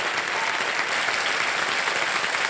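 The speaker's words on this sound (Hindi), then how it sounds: "तालियां मथुरा के लिए।" An audience on the KBC quiz show set applauds a contestant from Mathura with steady, sustained clapping. The sound is dense and even throughout, moderately loud and close.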